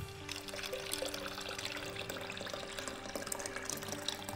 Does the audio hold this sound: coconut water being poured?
yes